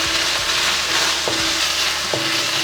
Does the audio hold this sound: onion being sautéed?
yes